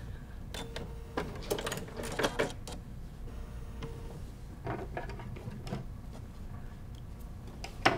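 A sewing machine stitches a circle while making a quilted snack mat, giving a light mechanical ticking clatter in uneven runs over a steady low hum of room noise.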